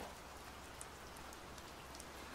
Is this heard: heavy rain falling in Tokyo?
yes